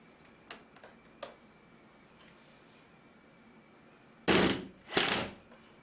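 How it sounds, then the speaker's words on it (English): Screws for an Armor Latch deadbolt are driven in by hand, with a few scattered faint clicks, then two loud close rasping bursts near the end. "Now we just screw in the 4 bolts."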